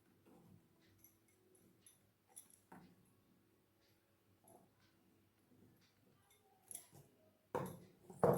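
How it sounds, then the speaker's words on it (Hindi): Scissors cut blouse fabric into bias strips, making faint, scattered snips and fabric rustles close by, with a few louder cuts toward the end and no voices. "अब हम इसको काट लेते हैं"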